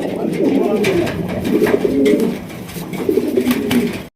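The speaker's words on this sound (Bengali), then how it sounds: "এখানে রয়েছে চমৎকার একজোড়া রেসার কবুতর দেখতেই পাচ্ছেন" A pair of racing pigeons cooing in repeated low throaty bursts close by, with a person's voice faintly mixed in.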